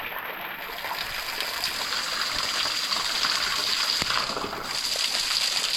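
Fresh water pours steadily down a small waterfall on a remote island, a continuous close rushing splash with no letup, where crabs cling to the wet rocks.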